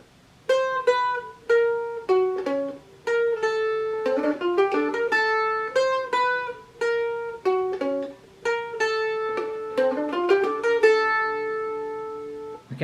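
Mandolin plays a passage, bright plucked notes in a quick, steady melodic run with ringing sustain, close and alone with no talking.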